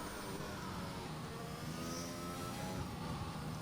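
A McLaren Formula 1 car engine in a video game, at France, screams at high revs, a faint but continuous harmonic whine with slight pitch changes.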